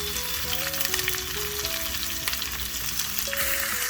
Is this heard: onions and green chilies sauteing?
yes